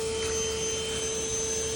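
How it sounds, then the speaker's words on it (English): A vacuum runs continuously at a condo wall vent during yellow jacket removal, a steady broadband roar with a constant whine, close and loud throughout with no talk. "that's why I put the vacuum there"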